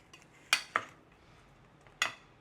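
A spoon clinks sharply against a bowl three times while fish is mixed with pepper and cornstarch, the taps close and clear over an otherwise quiet kitchen.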